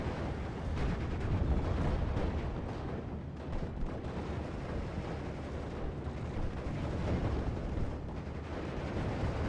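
Bombing strike explosions in the World War II strategy game Steel Division, a continuous heavy rumble of blasts and distant gunfire rolling on without pause, thick and low.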